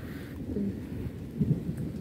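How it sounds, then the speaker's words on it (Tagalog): Light rain falls steadily outdoors near a vegetable garden with bitter gourd vines, a soft, even patter close by with a couple of low rumbling swells. "Pasok na tayo. Parang ganun lang ang ulan niya. Hindi naman malakas."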